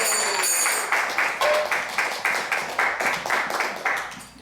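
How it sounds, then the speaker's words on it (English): Audience applause at a temple program in an ISKCON temple in Atlanta, a crowd clapping in a lively, steady patter with rhythmic surges, fairly close and continuous from start to finish. "Let's give him a round of applause."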